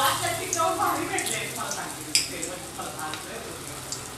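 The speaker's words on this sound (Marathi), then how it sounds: "आता आपण ज्या पालकाच्या वड्या केल्या त्या आपण तळून घेऊया." Spinach vadi frying in hot oil, a steady bubbling sizzle with a few sharper pops and clinks, heard up close. No one speaks over it.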